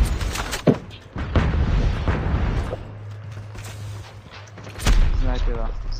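In a shooter video game, muffled booms from a grenade explosion mix with scattered gunfire under ongoing talk, with a deep blast rising near the end.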